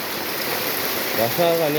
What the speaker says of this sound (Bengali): সিলেটের বৃষ্টির অবস্থা সকাল থেকে এক নাগারে বৃষ্টি হচ্ছে।